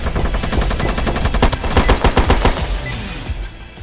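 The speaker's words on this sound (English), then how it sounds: "The PK-57, 15-shot 45-point AK pistol that really is a life-saving weapon when you don't have time to reload or run out of ammunition" Rapid semi-automatic fire from a PK-57 pistol in the tactical shooter game Due Process, a quick run of loud close shots in steady rhythm that tapers off near the end.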